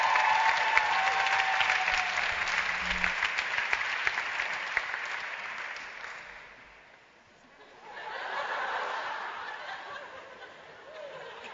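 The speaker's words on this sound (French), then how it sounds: "Une bonne applaudissement." An audience at a prayer and adoration vigil applauds steadily for several seconds. The applause fades, then swells again, with light laughter and chatter mixed in.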